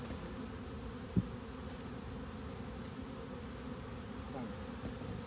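Honeybees swarm and buzz around an opened self-flowing beehive, a steady close droning hum that holds throughout, broken once by a single soft knock.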